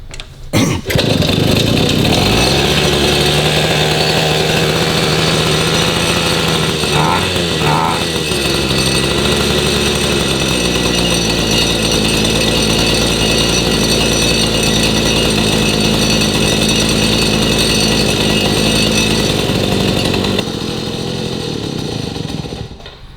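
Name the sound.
1953 Itom Astor Sport two-stroke motorcycle engine starting and running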